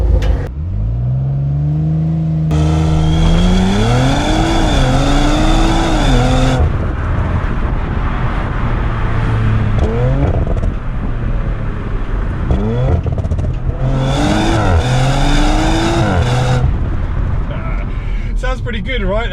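A 2020 Audi RS4 Avant with a V6 engine revs hard through its exhaust, rising and falling pitch sweeps in several loud bursts of acceleration, with speech partly over the engine.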